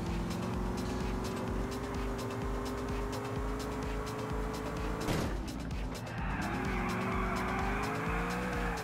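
A large truck driven in Grand Theft Auto IV hums along with a steady engine drone and music playing, then skids with a brief tire squeal midway before the engine settles back into its steady run.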